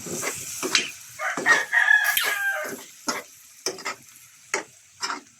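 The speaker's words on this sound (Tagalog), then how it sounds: "Tapos haluin natin." Chicken being stirred with soy sauce in a pan, with bursts of scraping and sizzling strokes, some sharp clanks of utensil on metal, recurring irregularly, close and moderately loud without talk.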